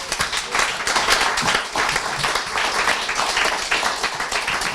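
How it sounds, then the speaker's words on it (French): Sustained, enthusiastic audience applause for award winners at the Prix Mémoires vivantes ceremony: dense, steady clapping from a full room, loud and continuous throughout. "on mérite de leur donner une bonne main d'applaudissement"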